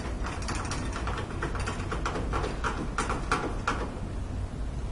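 Clamp screws being tightened on a cable clamp inside a residential electrical box, a steady run of small ratcheting, gritty clicks with a few sharper ticks, close and continuous, with no talking.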